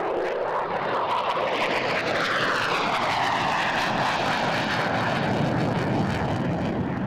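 An F-16 Fighting Falcon fighter jet makes a low pass over the runway at about 500 feet before a rolling tactical pitch up, a loud, continuous roaring engine whose tone slowly shifts as it passes.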